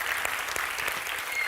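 Steady applause fills a hall at a film festival awards ceremony, a dense wash of many hands clapping continuously from a large audience.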